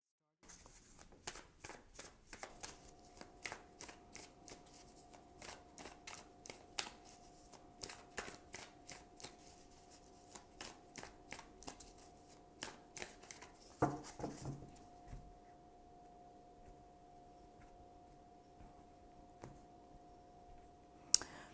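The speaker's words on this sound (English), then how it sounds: "I will also choose a couple of oracle cards for additional information." Tarot and oracle cards are shuffled in a steady run of soft, rapid riffling flicks, moderately quiet and close, tapering off near the end over a faint steady hum.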